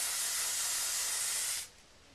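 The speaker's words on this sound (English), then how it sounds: "We're going to spray that hairspray in the front" Hairspray sprays onto teased hair in a single steady, close hiss lasting about a second and a half, then stops abruptly, leaving quiet behind.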